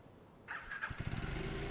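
A motorcycle engine in the video game Farming Simulator 25 starts after a short starter whine, then settles into a steady, close, rumbling idle with no talk.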